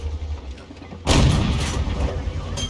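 Panzer IV howitzer cannon firing in a tank battle video game, a single loud boom with a rumbling tail after a second of quieter background.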